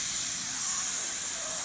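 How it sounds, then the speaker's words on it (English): Bacon sizzles loudly in a pan, a steady bright hiss that grows slightly stronger over the short stretch, with no talking. "Get ready for that nice sizzling."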